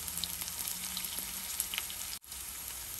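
Green chilli, garlic and asafoetida sizzling in hot oil in a pan, a steady close frying hiss with faint stirring clinks and a brief dropout near the end, no voices.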